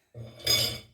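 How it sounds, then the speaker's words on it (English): A spoon mixing chicken marinade with spices in a bowl, a single brief metallic clink and ringing scrape against the bowl, close and clear. "now I'm going to mix it all together"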